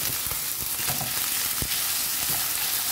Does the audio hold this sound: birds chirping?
no